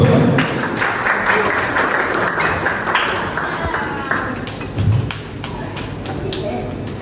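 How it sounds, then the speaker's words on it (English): Guests at a 21st birthday party applaud for Brent with loud, dense clapping and a few sharp taps and thumps, and voices can be heard speaking through the applause. "Ladies and gentlemen, a big round of applause for Brent."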